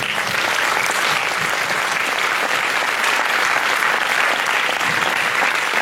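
Dense, loud audience applause at a film presentation, continuous, even clapping from a large crowd filling the whole stretch without pause.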